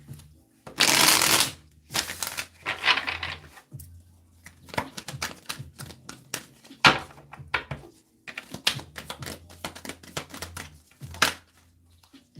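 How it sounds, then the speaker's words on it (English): Tarot cards being shuffled in bursts of riffling and crisp snapping flicks, with pauses and soft taps between, close up and without speech. "let's get one more shuffle"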